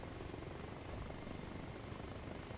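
A helicopter in the Arma Reforger video game drones steadily with an even, broadband rotor and engine wash, faint and continuous throughout with no voices over it.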